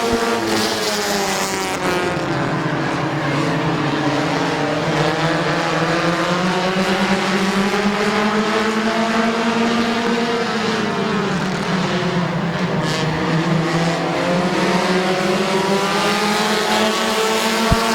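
Race cars at Midvale Speedway on a September 2018 race night, a loud continuous roar of engines from several cars circling the oval, pitch rising and falling as they pass, with no talk over it.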